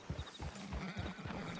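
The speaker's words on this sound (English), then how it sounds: "Just get on the horse when you're good and ready, okay?" Horse hooves clip-clop in Red Dead Redemption 2, a quick run of close hoofbeats with soft thuds, moderately loud, no speech.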